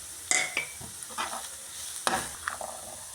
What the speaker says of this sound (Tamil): இதெல்லாம் சேர்த்து கொஞ்சம் நல்லா மிக்ஸ் ஆகி நல்லா சேர்த்து கிளறி விடுறேன்